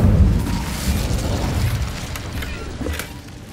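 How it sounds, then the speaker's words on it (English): Incendio fire spell cast in Hogwarts Legacy, a deep booming blast that opens loud and settles into a rumbling, crackling tail with a few smaller pops. "Incendio!"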